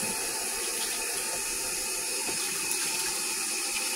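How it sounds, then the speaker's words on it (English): Tap water runs steadily into a container to rinse out cinnamon, a close, continuous splashing rush in a kitchen sink with no break. "I just want to rinse out that cinnamon."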